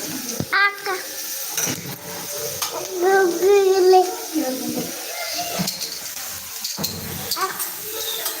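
Karnataka-style junaka fries in a pan with a soft, steady sizzle. A voice talks over it, and there are a few louder stirring scrapes.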